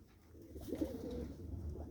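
A domestic pigeon coos faintly close by, a short, muffled rolling call that swells and fades over a low hum, with no voices.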